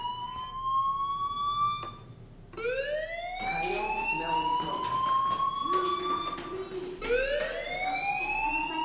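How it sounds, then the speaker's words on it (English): A fire alarm rings in the Life is Strange video game, loud rising-and-falling electronic wails repeating in several sweeps with no talking. "Hey, do you hear that fire alarm?"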